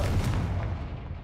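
A Confringo blasting spell goes off in the Hogwarts Legacy video game, a loud, deep rumbling boom with crackling bursts that rolls on steadily for over a second, with no voices over it.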